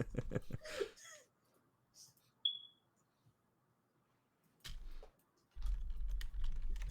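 Computer keyboard typing during a tabletop role-playing livestream, coming in short bursts of close keystrokes between long quiet gaps, with a faint breath and some heavier rumbling noise toward the end.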